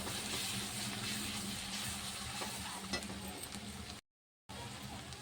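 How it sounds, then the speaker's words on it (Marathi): Tomatoes and onion sautéing in a pan for pav bhaji, a dense continuous sizzle and frying hiss with steady stirring scrapes throughout, briefly cutting to silence near the end before the sizzling resumes. "आता टॉमॅटो पण छान असे नरम होईपर्यंत परतून घेते"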